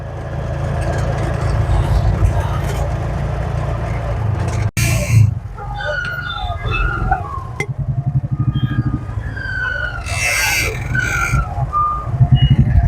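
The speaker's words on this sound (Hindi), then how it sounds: "एक्सीडेंट हो गया था इधर, ये ट्रैफिक जाम हो गया है" A roadside traffic jam after a road accident on a rural route from Rajkot to Lothda, with heavy engine rumble from cars, trucks and motorcycles, repeated reversing beeps, and voices in the background.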